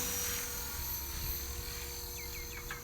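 A KDS 450QS radio-controlled helicopter climbs as the throttle is raised, its steady, loud rotor and motor whine droning continuously outdoors, with a few faint chirps near the end.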